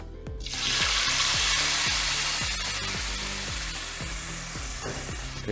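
Papaya puree is poured into melted ghee and stirred for halwa, a loud steady sizzle with rhythmic scraping strokes of a spoon against the pan, close up and without voices.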